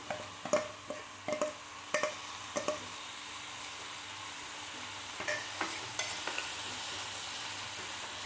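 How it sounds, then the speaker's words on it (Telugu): Tomatoes dropped into a hot pan for a vegetable kurma, with a cluster of sharp splatters and clinks at first, then a steady, moderate sizzle that continues alone. "టమాటాలు వేస్తున్నాను."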